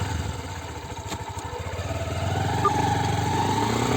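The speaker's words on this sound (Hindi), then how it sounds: "चलिए दोस्तों टेस्ट ड्राइव करके देखते हैं अब इस बाइक में हमें कैसी स्टेबिलिटी मिलती है" A Honda SP125 BS6 motorcycle with a newly changed rear tyre rides on a test drive, its single-cylinder engine humming steadily close by and rising slightly in pitch and loudness, with no talk.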